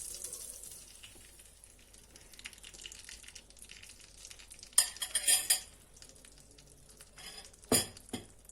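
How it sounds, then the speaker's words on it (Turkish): Eggs whisked into sizzling melted butter in a pan for a mixed omelette on a very low flame, a soft steady sizzle with scattered metallic stirring clinks and two louder bursts of scraping, no talk. "Eriyen tereyağımın içerisine şöyle bir tur daha yumurtamı çırpıyorum"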